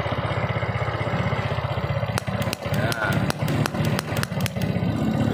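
A motorcycle with a starter-button fault runs with a steady idling engine rumble while a series of sharp clicks and clacks from the starter area sound over it, close up, as someone talks.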